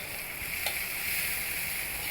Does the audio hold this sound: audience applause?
no